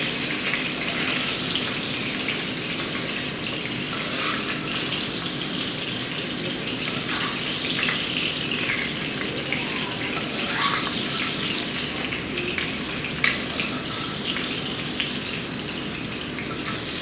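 Water runs steadily from a kitchen tap for a quarter cup to add to sunflower heads being cooked, a continuous close splashing hiss with no talk.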